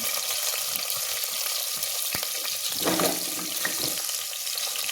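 Sliced onion and curry leaves fry in oil with a loud, continuous close-up sizzle, brief swells and sharp spits breaking through, and a few stirring clicks; no voices.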